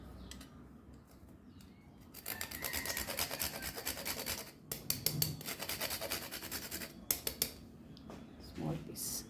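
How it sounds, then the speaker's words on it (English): Nutmeg is rasped against a grater for a carrot cake, a close, steady scratchy rubbing in repeated strokes lasting several seconds, fairly quiet, with a faint voice in the background. "Then we will grate our nutmeg."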